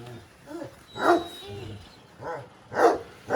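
Dogs barking in short loud bursts, several sharp barks spaced about a second apart close by, with a voice talking between them.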